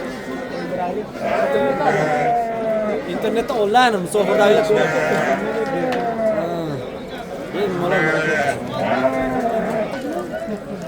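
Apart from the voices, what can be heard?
sheep bleating at Sariosiyo livestock market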